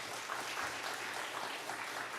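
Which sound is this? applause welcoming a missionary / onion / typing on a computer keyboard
applause welcoming a missionary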